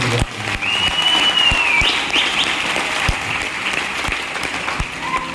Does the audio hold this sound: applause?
yes